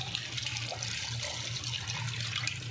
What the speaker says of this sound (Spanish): le agregamos agua